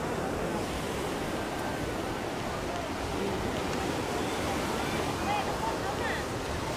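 Sea surf at Digha beach in West Bengal rolls in as a steady broadband wash with a faint wind rumble, continuous and fairly close, with no clear voices.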